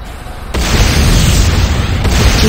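An attack on the Nod airstrip in a Command & Conquer Renegade match, with a sudden loud explosion that gives way to a sustained roaring blast and a second burst, heavy and close.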